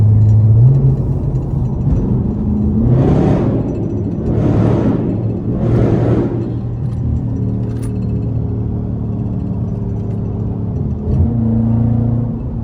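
A Dodge Scat Pack engine surges hard three times in quick succession while accelerating in rush hour traffic, loud and close, then settles into a steady rumbling cruise with no talking.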